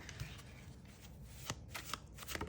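Tarot cards being shuffled by hand, soft rapid riffling and slapping bursts, close but quiet, recurring in short clusters.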